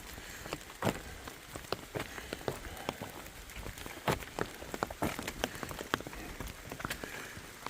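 Rain pattering on leaves and ground during a thunderstorm in a fern-filled forest on a long hike, a steady soft wash broken by scattered sharper drops, fairly close and without talk.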